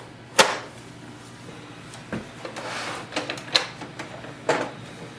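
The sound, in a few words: inkjet printer mechanism running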